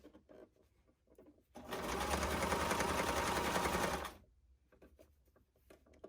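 Sewing machine stitching sherpa pillow fabric in one steady, close, continuous run of about two and a half seconds, with quieter handling sounds before and after.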